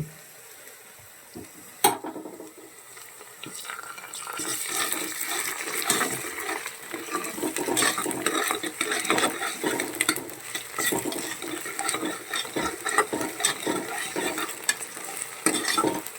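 Chopped onion fries with ginger garlic paste in a pan for paneer ghee rice, giving a steady close sizzle broken by frequent spatula scrapes and stirring, with no voices.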